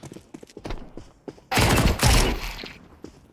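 A gun fires in a video game as a dense, loud burst of blasts lasting over a second, preceded by lighter clicks and taps.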